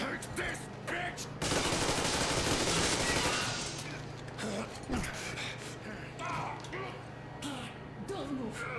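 Gunfire from the video game Metro Exodus, a dense burst of rapid shots for a couple of seconds, then scattered shots mixed with game dialogue and someone talking over it.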